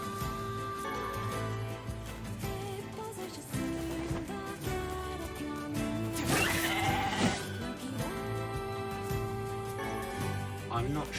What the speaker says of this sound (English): Oh my god, there's so many sheep out here.